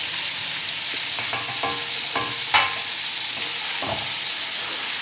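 Marinated keema with tomatoes frying in a pan, a steady loud sizzle with scraping stir strokes scattered throughout, heard alone.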